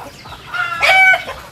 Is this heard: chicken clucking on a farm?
yes